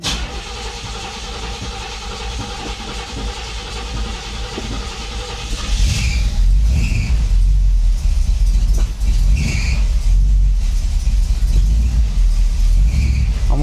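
An old lowrider car's engine turns over and catches, settling into a loud, steady low rumble that runs close by without pause.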